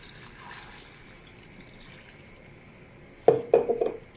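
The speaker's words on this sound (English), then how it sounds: "Just whack your water in." Water is poured into a soup pan over vegetables, a short trickling fill after near-quiet room tone, ending in a few louder splashy gulps close by.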